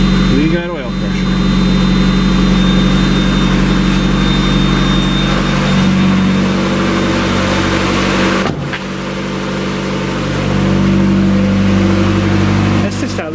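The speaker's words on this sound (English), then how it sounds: "That's just how this exhaust sounds" A 1990-1997 Mazda Miata engine idles nearby with a deep, throaty exhaust rumble, revving up briefly a couple of times while a person talks over it.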